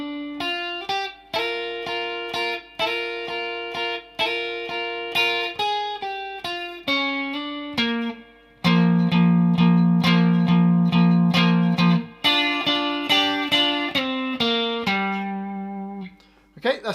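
A guitar plays the opening line of a song intro: a fast, unbroken run of bright, slightly distorted plucked notes and double-stops in a driving rhythm, loud and close with no talking.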